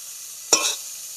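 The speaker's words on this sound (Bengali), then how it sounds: "দেখেন ফুলকপি গোল্ডেন কালার করে ভেজে নিচ্ছি" Cauliflower fries in a pan, with a brief sharp stir and sizzle rising above a faint, steady background hiss.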